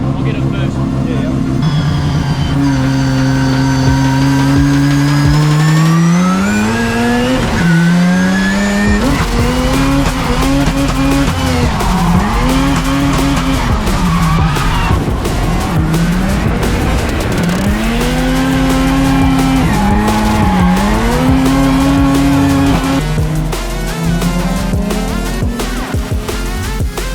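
Mazda RX-7 drifting hard, its engine held at high revs with pitch swinging up and down as the tires squeal in long sustained bursts, loud and close throughout, with occasional voices underneath.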